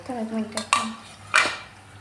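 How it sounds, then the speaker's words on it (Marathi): Crispy, spicy fried shankarpali being lifted out onto a plate, giving a few short clattering, crunchy clinks of pieces and utensil against the dish, brief and close. "बघा कसा आवाज येतोय मग अशा कुरकुरीत अशा शंकरपाळ्या झालेल्या आहे"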